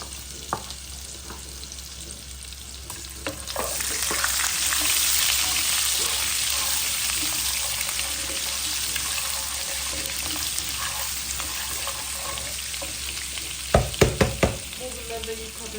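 Vermicelli sautéing in butter sizzles steadily in a pan, swelling louder after a few seconds, with soft scraping stir sounds and a few sharp clinks near the end.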